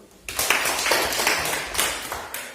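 Classroom applause for a student group, a burst of many hands clapping that starts abruptly after a quiet moment and keeps going steadily, with a few voices under it.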